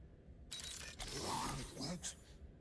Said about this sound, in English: Think you could open the door for a minute?